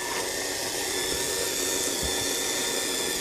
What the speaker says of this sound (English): she's running a lot smoother on the dyno since I got the tires trued up